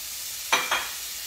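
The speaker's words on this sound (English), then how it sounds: "Now that my butter is starting to melt" Butter melts in a hot pan over medium heat, giving two short, bright sizzling bursts close by with quiet between them.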